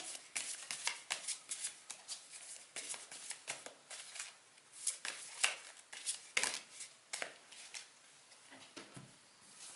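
Tarot cards are shuffled by hand in a steady, close, soft flurry of papery riffles and slaps that continue without pause for several seconds, with no talking.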